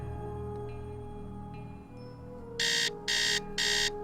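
Alarm clock in the Nancy Drew game Secret of the Scarlet Hand going off at 9 a.m., sounding three sharp, loud electronic beep bursts over a steady background music bed.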